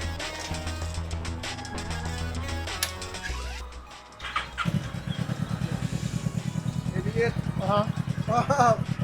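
A motorcycle engine runs with its muffler removed, idling in a fast, loud, rattling chug that starts partway through after some earlier street noise and talk. Voices are heard over the engine.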